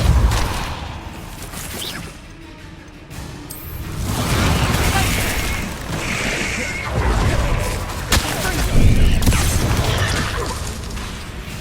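Booming blasts, whooshes and crashing impacts of spells such as Glacius, Bombarda and Expelliarmus are cast in a Hogwarts Legacy duel, loud and dense throughout with a voice calling the spell names.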